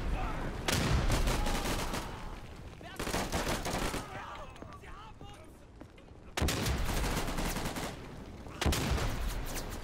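Gunfire in the World War II shooter Day of Infamy, with STG-44 and Thompson submachine guns: loud rapid bursts of automatic fire in four separate volleys, with quieter stretches of distant shots between them.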